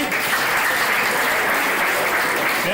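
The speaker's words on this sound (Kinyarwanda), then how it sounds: "Amashyi menshi cyane." A crowd applauds warmly at the religious wedding of Kagabo and Nadine. The clapping is loud, dense and sustained throughout, with no pauses.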